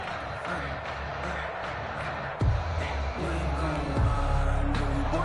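Home stadium crowd in a PS4 American football game, Chiefs on offense: a steady, broad roar of the crowd that swells slightly partway through, with low thuds and no clear speech on top.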